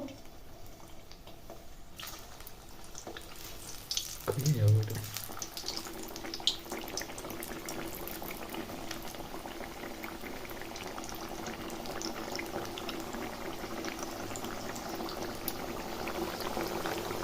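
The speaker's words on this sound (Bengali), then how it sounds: "এগুলোকে একটু হালকা আঁচে ভাজতে হবে বন্ধুরা, বেশি আঁচে ভাজা চলবে না।" Cabbage rolls fry slowly in oil over low heat, making a steady soft bubbling and sizzle. The sound is fairly quiet and continuous, with a brief clatter of utensils early on.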